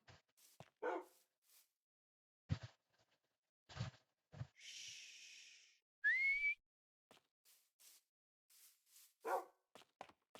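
A video game dog barks and whimpers in short, scattered bursts, mixed with brief whistles and other game sound effects, separated by silence.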